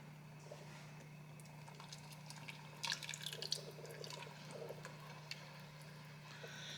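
Coconut milk is poured into a thick potato, corn and shrimp chowder in a pot: a faint, soft liquid splash and glug clustered midway, over a low, steady background hum.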